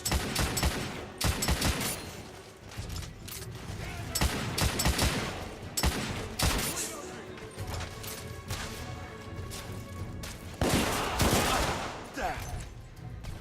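Repeated loud gunfire bursts and sharp shots from a third-person shooter set in an alternate 1886 London, rapid fusillades and crashes throughout with occasional talk over the action.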